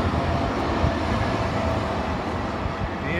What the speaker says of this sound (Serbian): u Nemačkoj, vidite tramvaje